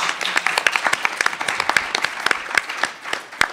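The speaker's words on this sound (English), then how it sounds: "let's give them one more round of applause" An audience at a New School career event on emergency and disaster management gives a round of applause: dense, steady clapping throughout, close and fairly loud, with crisp individual claps standing out.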